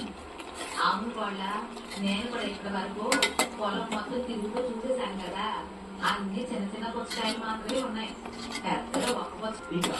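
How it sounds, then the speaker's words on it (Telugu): Cooked moong dal mashed with a ladle in a pot, giving soft scraping and clinking of metal against the pot that recurs throughout, with someone talking over it. "మనం కొంచెం పప్పుని గరిటితో ఇలా మ్యాష్ చేసుకుందామండి"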